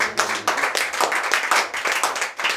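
Congregation at a Pentecost church service clapping rhythmically and cheering, steady dense handclaps with crowd voices filling the room.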